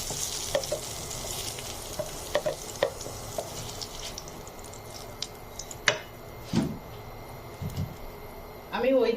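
Sliced onions and green chilies are dropped into hot oil left over from frying potatoes and brinjal for a Bangladeshi bata fish curry, giving a continuous sizzle with scattered stirring clicks and scrapes and a louder burst near the end.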